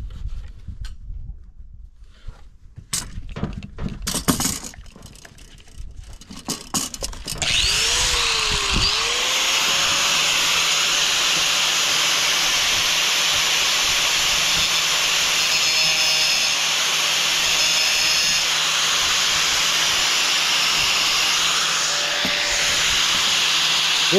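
A saw fitted with a small-radius blade cuts through tight crimps in stainless steel for a sand battery element: scattered sharp clattering bursts first, then a loud, steady hissing whine that runs on close by without talk.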